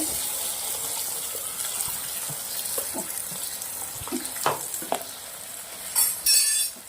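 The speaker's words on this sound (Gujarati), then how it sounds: "પછી આપણે ડુંગળી નાખી દેવાની છે." Onions tossed into hot oil alongside garlic and green chillies, giving a soft steady sizzle with occasional clinks and stirring scrapes, rising into a louder hiss toward the end.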